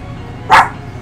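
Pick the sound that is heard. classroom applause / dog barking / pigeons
dog barking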